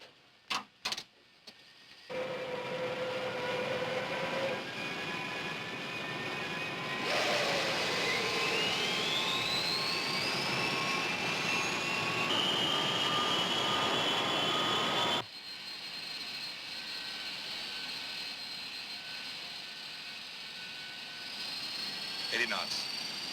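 A 1960s propeller or jet airliner starts its takeoff run after a few opening clicks, its engines rising to a loud, steady roar with whining tones sweeping upward, then dropping to a lower, quieter drone partway through.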